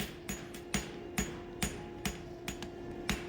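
Hammer blows on a hind horseshoe being forged at the anvil, about eight sharp metallic strikes at a steady, unhurried rhythm, close and clear.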